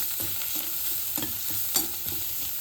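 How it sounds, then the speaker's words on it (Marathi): Garlic, coconut and coriander paste roasting in a pan for a wet soybean curry, a soft sizzle under regular scraping strokes of a spatula stirring about twice a second, close by with no talking. "हे लसूण खोबरं आणि कोथिंबीरची पेस्ट टाकून देते छान असे भाजून घ्यायची"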